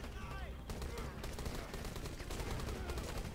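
Rapid, dense automatic gunfire pours out continuously in Rambo The Video Game, with a voice faintly underneath.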